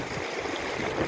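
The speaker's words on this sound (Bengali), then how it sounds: "শতদ্রু নদী বইছে," Steady broadband rush of the Sutlej River flowing through snowy mountains at Chitkul, Himachal Pradesh, continuous and fairly even, with no voices.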